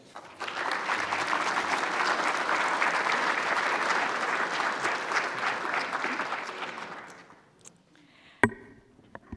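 An audience at a USRA symposium applauds to welcome a speaker, a swelling wall of clapping that holds steady for several seconds and then tapers off, followed by a few isolated knocks and near silence.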